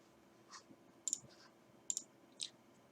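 Four faint, crisp mouse clicks are spaced irregularly over a few seconds against a quiet background hum, with no talking.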